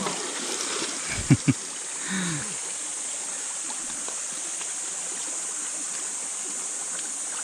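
A river flows steadily at a snail-gathering spot in Lawinon, Pio Duran, Albay, as a continuous bright rushing hiss. A few brief low knocks and splashes come early on, then the water carries on alone.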